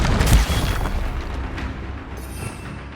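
Blasting-spell explosions from the video game Hogwarts Legacy: a loud, deep boom at the start that rolls into a long rumbling decay, fading gradually over a few seconds with no talking.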